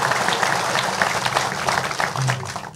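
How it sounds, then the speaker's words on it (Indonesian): Brief audience applause at a gathering, a short burst of clapping from a crowd at moderate loudness with a faint voice underneath. "Tepuk tangan semua."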